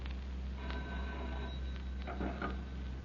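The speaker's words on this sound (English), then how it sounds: "receives a mysterious telephone call in his New York office" A telephone rings in a New York office: faint, thin ringing tones rise over a heavy steady low hum, with a couple of brief bursts near the end.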